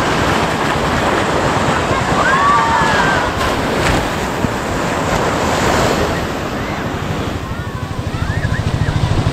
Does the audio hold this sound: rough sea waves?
yes